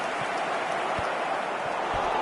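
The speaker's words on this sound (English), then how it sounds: "a lot of applause for the thought" Crowd applause in an eFootball 22 soccer match after a near chance, a broad steady wash of clapping and stadium noise with a few low thumps, without a clear break.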